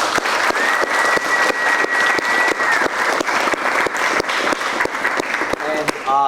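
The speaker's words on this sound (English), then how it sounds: "So just give that a round of applause." A crowd at a martial arts gym fundraiser gives a round of applause, many hands clapping steadily and loudly, with sharp individual claps standing out, a faint whistle-like tone partway through and a voice starting at the very end.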